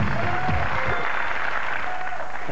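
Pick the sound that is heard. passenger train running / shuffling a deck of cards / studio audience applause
studio audience applause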